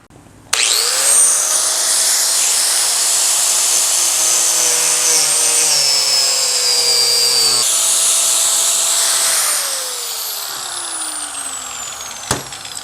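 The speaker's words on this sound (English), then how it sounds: "I'm just going to take a grinder and just hack the bottom of this thing off and get a nice angle going with it" An angle grinder cuts off the bottom of a metal rock light bracket on a Lexus GX470. A loud, steady high whine starts abruptly, holds for about nine seconds, then eases and winds down with a final sharp tick.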